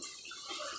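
Water is poured briefly into animal feed for mixing, a soft, steady splash close by with no one talking.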